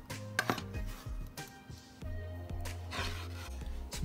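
A knife cuts coarsely through a peeled ingredient on a board for burger sauce, a few soft chopping taps over a low steady hum with faint kitchen clatter.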